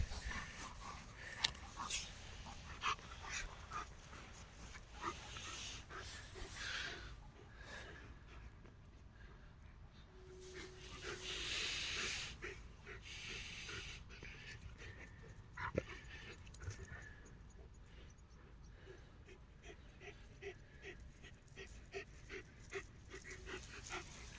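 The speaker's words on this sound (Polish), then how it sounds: "Tak jest, dobre psy. Obydwa." Two Old German Shepherd Dogs pant rapidly outdoors at sunset, with soft whimpers, snorts and occasional sharp sounds mixed in. The breathing is close and fairly quiet, with faint talk at times.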